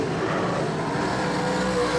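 Super sedan race cars roar out of turn 4 at a night race, their engines blending into a continuous loud droning rumble with no clear pass-by.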